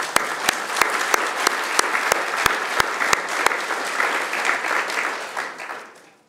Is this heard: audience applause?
yes